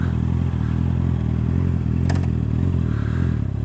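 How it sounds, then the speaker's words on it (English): Steady, loud engine drone of a Honda CB650R motorcycle being ridden, a continuous low rumble with wind noise and a brief clatter midway, no talk. "I'm gonna just free ride the CB650."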